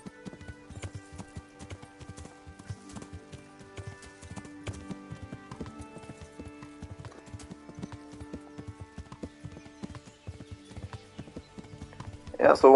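Horse hooves in Kingdom Come: Deliverance clip-clop in a quick, steady gallop rhythm, moderately close, with a sharp whinny bursting in at the very end.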